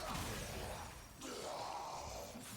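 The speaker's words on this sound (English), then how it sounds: "The wave is a catalyst designed to just shatter enemies." Glassy shatter from the Vitrica catalyst wave in Warframe as enemies break apart, a dense crackling burst that dips briefly then swells again with a swish, alone without talk.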